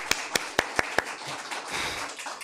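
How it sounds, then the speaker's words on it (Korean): A church congregation at a Sunday service claps in welcome, starting with five sharp, evenly spaced claps close by, then a softer, blurred patter of hands. "박수로 한번 환영해 주시기 바랍니다."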